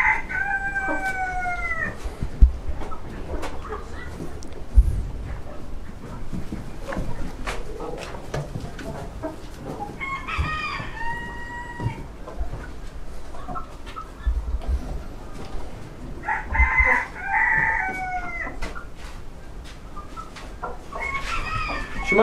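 Bantam roosters crow several times, with bantam hens clucking in between and faint voices in the background.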